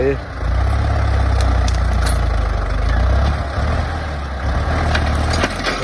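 A heavy Ford 6600 tractor engine rumbles steadily and loudly up close while clearing a termite mound and tree stumps, with clanks and rattles on top and someone talking over it.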